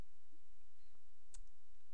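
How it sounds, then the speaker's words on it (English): Single sharp computer mouse click near the middle of the clip, a crisp close tap against a quiet desk-room background while working in a SharePoint environment. "right clicking on the site"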